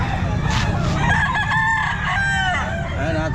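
A Hatch Gray rooster crows loudly and close by at the Calumpit pet market, its drawn-out call rising and falling over the background clucking of other fowl.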